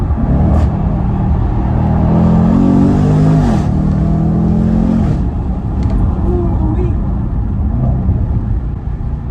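A Jaguar F-PACE SVR's V8 engine revs hard after a downshift, loud and close, rising and falling in a sustained roar with deep rumble over road noise.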